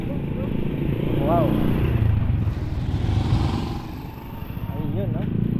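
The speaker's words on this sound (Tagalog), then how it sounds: "Yung mga tricycle na andito na." Motorcycle-taxi tricycles at a public market in Santa Cruz, Zambales, rumble and rev past nearby, engine noise swelling then easing off under voices and a brief exclamation.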